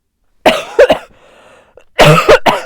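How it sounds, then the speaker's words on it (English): Two loud bursts of coughing from someone with the flu, close to the mic, each a quick series of harsh coughs, with a quiet breathy gap between them. "I'm going to be coughing throughout this reading"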